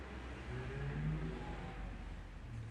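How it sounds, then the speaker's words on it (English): Cars passing by outside give a steady low road rumble that swells slightly near the middle, muffled and moderately distant, with no talking. "you hear the cars"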